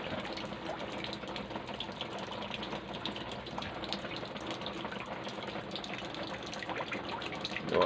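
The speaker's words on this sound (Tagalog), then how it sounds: "So maulan pa rin ang panahon dito sa Santa Rosa, Laguna." Steady rain in Santa Rosa, Laguna, a dense continuous hiss of falling water that stays even and moderately loud throughout, with no voices.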